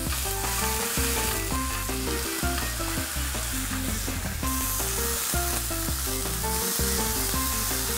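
Meat sizzling steadily in a dry frying pan with no oil, pressed down as it cooks, a continuous crackling hiss close by, with tuneful tones running underneath throughout.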